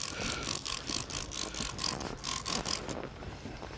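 Quick repeated spritzes of glass cleaner from a spray bottle onto boat acrylic and glass, several short hissing bursts in a steady rhythm, close and fairly quiet.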